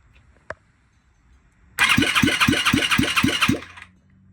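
A new engine on a turbo dirt bike cranks over without catching: a loud, steady starter whir with about seven even compression pulses lasts roughly two seconds, then stops, after one earlier faint click.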